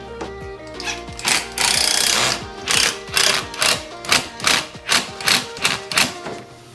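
A drill countersinks pre-drilled screw holes for number 8 screws in a wooden frame for a vintage stained glass window, with short, loud whirring bursts repeating in a quick regular rhythm close by.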